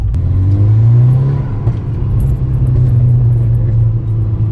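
A Mk6 Golf R engine with an aftermarket downpipe revs hard and rumbles loudly and steadily up close, with a deep, throaty drone; distinct exhaust pops are hard to pick out.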